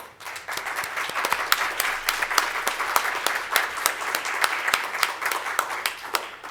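A symposium audience at a closing session applauds the tobacco control organizing team: many people clapping at a moderate distance, with sharp individual claps standing out of a steady patter that rises quickly and holds for several seconds.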